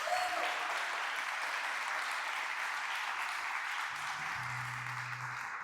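A church congregation applauds during a sermon, a steady, dense wash of clapping from many hands that holds at an even level throughout, with a faint low tone entering near the end.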